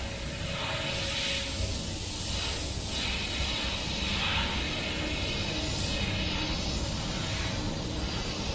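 Airbrush hissing steadily as paint is sprayed over a faux wood grain finish on a TV, a continuous airy hiss with gentle swells and no talking.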